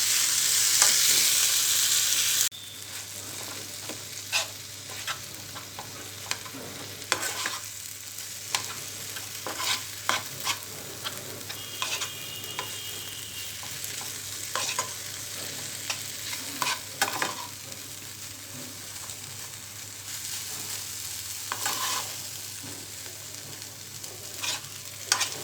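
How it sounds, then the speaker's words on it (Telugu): Gongura leaves and tomato pieces cook in a pan, giving a soft steady sizzle broken by repeated sharp scrapes and clinks of a stirring spoon, close and unaccompanied by talk after a brief louder burst at the start. "ఈ టమాటో ముక్కల్ని బాగా మగ్గనివ్వాలి"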